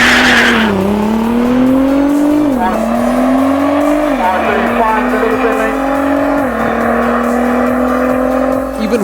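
The NXGEN-built Alpha 6 roars at full throttle during a drag strip launch, tires spinning and squealing as the engine note rises and dips repeatedly while it scrambles for traction, loud and close throughout.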